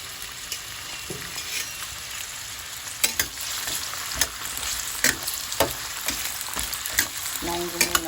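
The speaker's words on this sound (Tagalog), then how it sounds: "Kaya magpiprito tayo muna ng carrots" Carrots frying in hot oil give off a steady broadband sizzle, with scattered utensil clinks and stirring scrapes close by and no voices.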